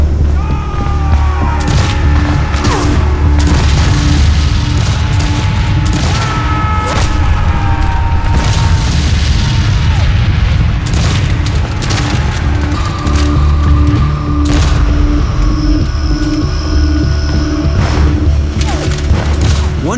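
Musket and rifle fire in a Civil War battle reenactment at Gettysburg, with dense, continuous volleys and booming rumble, sharp individual cracks scattered throughout, loud and relentless.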